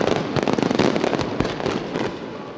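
Fireworks at a Japanese summer fireworks festival, a rapid, dense barrage of loud crackling bursts and booms with no pause between them.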